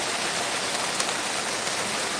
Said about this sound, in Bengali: দেখুন দেখতে থাকুন আপনারা প্রচণ্ড প্রচণ্ড পরিমাণে বৃষ্টি হচ্ছে